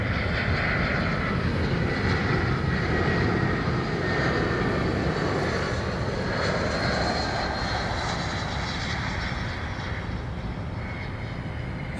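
Airbus A350 airliner at London Heathrow Airport, a loud sustained engine roar with a shifting whine, holding steady across the whole stretch with no talk over it.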